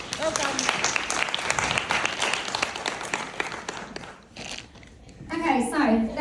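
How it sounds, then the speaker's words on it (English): An audience at a business reunion talk clapping together, a dense burst of applause that fades out, followed by a voice speaking. "Give them a clap, guys."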